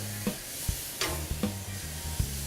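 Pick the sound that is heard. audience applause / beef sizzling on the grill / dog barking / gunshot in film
beef sizzling on the grill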